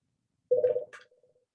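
Mobile phone ringing with a single brief chime of a tone and a higher note that fades quickly, close and clear in a quiet room.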